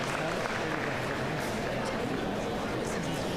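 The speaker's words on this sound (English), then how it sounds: "It's a lively crowd." A lively commencement ceremony crowd cheers and claps in a steady, dense wash of noise, with chatter mixed into the continuous roar.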